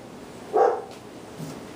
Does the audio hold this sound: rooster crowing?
no